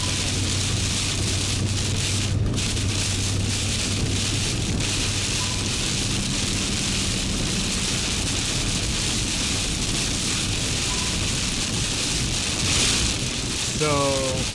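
Steady heavy rain from a storm hisses continuously, with low rumbles of thunder underneath and faint background voices.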